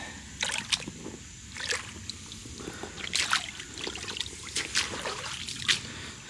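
Water poured over a CAT work boot trickles and splashes off the surface in short bursts, with a steady hiss underneath and no talking.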